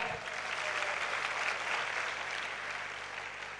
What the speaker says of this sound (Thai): ขอเสียงปรบมือให้กับอุเทนรัตน์ได้ไหมครับ